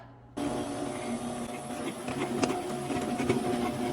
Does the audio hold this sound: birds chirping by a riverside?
no